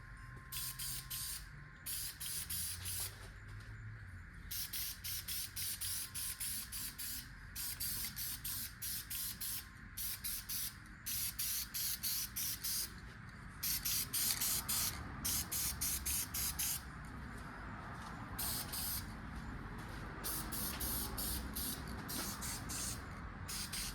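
Aerosol spray paint hisses in repeated steady bursts while another coat goes onto a part during a water pump install on a modified 351 engine, each spray lasting a second or two with short pauses between.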